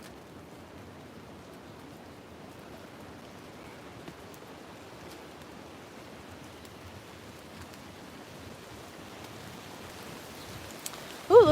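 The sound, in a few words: rain falling on a Hawaiian hike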